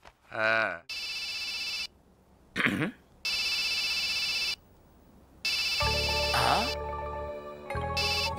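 A mobile phone ringtone for an incoming call in a 2006 Telugu comedy film scene rings in repeated loud bursts separated by short gaps, with brief voices in between.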